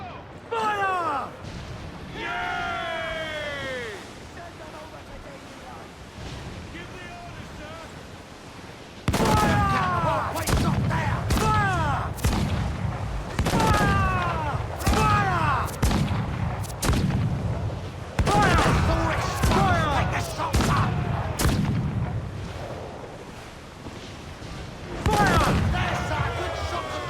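Ship cannons firing in broadside volleys during a naval battle in Assassin's Creed IV: Black Flag, with loud booms in quick clusters, shouted crew voices between them and a continuous roar of battle underneath.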